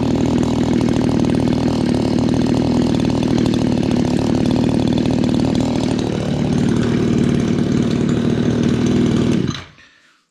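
Echo SRM 2300 brush cutter two-stroke engine running loud and close at steady high revs during a test after reassembly and carburetor adjustment, the pitch dipping briefly before it cuts out abruptly at the end.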